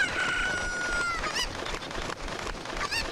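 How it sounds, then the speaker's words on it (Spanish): Cucco chicken in the Nintendo 64 game Zelda Ocarina of Time: a rising crow is followed by repeated sharp clucks, loud and close, over steady game background sound. "Voy a por la gallina de arriba, que también está aquí."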